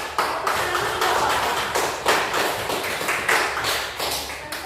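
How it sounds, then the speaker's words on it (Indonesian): A class of students claps their hands in a loose, uneven burst of clapping that rises and falls in waves, fairly close and with no talking. "Tepuk tangan dong"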